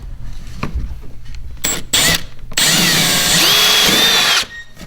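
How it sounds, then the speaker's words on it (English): A power drill whirs in short bursts, then runs in one sustained, loud high-pitched grind as it bores into a plastic kayak hull, close by. "It's easy to drill into because it's plastic."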